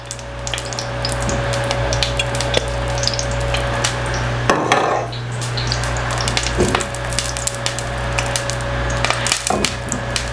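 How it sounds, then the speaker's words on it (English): Loud, continuous crackling sizzle of oil in a hot pan, with sharp pops and spatters throughout and a low background hum. "As you can hear, it's sizzling already."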